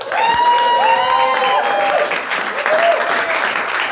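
An audience in a pub and restaurant in downtown Mount Clemens claps and cheers loudly and steadily at a Christmas party, with a few whistles and shouts rising over the applause.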